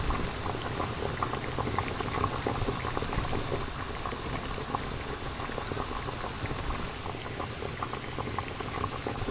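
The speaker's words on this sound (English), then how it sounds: "creating a unique fish and banana soup over the flames" Fish and banana soup boiling over an open fire, a steady dense bubbling and popping that stays close and continuous throughout, with no voices.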